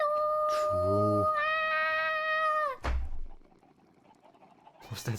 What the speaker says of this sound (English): I gotta kill these chickens. They're lagging my game out.